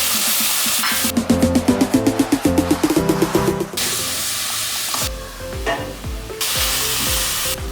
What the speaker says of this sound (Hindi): अब हम इसमें चिकन ऐड करेंगे।